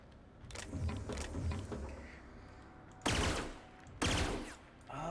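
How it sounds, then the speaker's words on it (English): Burst-fire weapon shots in The Outer Worlds video game, two sharp loud bursts near the end following a busier stretch of muffled game action and clatter. "it's like a burst weapon"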